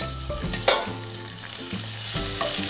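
Asafoetida and cut dried chillies hit hot oil in a pan, giving a dense, continuous sizzle with a few sharper crackles and pops, close and loud with no talking.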